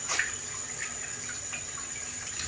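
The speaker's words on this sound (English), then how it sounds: "so I want to wet my hands first." Tap water runs steadily into a sink as hands are wetted before hand washing, a close, continuous hiss with faint splashes and no talking.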